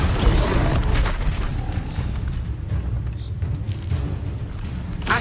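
An Incendio fire spell cast in Hogwarts Legacy: a loud rumbling burst of flame that flares at the start, then roars and crackles steadily for several seconds with no voices.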